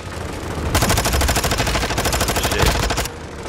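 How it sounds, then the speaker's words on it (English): Heavy gunfire and explosive blasts in Call of Duty: Modern Warfare DMZ, including RPG rocket fire, form a loud rapid barrage lasting a few seconds before cutting off abruptly. "I shot him with two RPGs"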